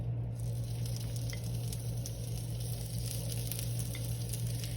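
A black bean burger patty sizzles steadily in oil or butter on a hot tawa, a dense, even frying hiss that holds close and loud throughout with no voices.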